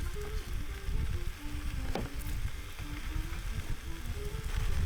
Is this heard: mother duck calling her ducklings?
no